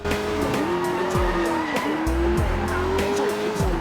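A fast car in the Sleeping Dogs video game races along with a steady engine drone that rises and dips through gear shifts, broken by repeated tire squeals and skids, loud and close throughout.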